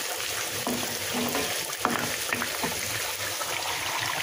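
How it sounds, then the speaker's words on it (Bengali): Thinly sliced onions deep-fry in oil to make birista, giving a dense continuous bubbling sizzle with faint stirring knocks and no talk. "আমি এই যে বেরেস্তাগুলো ভেজে নিচ্ছি।"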